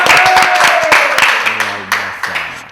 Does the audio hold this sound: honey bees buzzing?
no